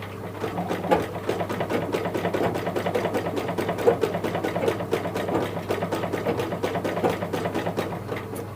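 A foot-pedal tailoring sewing machine stitches steadily at a moderate, even pace, its rapid repetitive needle clatter continuous and close over a low mechanical hum throughout.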